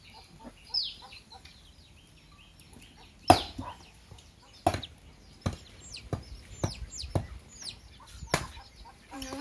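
A hen and her chicks peck and cluck outdoors. Thin, high chick peeps scatter throughout, mixed with several louder sharp taps and clucks at an uneven pace, heard at moderate distance.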